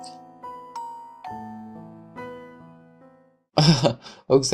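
Doorbell chimes ringing in a visual novel video game, a series of clear sustained bell tones fading one after another, followed by loud bursts of throat clearing or coughing.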